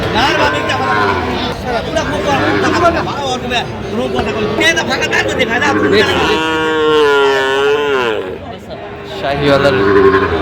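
Cattle, Sahiwal bulls and calves at a market in Dhaka, mooing loudly and repeatedly, one long drawn-out low call standing out, over a busy crowd of people chattering nearby.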